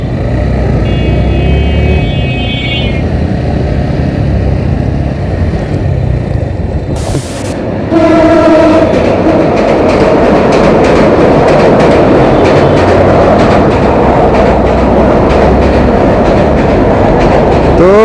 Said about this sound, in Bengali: উপর দিয়ে ট্রেন আসতেছে